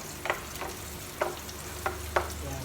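Onions sautéing for seafood kare-kare sizzle steadily in a pan, with four or five louder scraping stirs spaced through the short stretch, close and alone with no talk.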